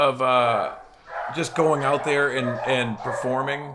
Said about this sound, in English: I'm sorry for my dogs here.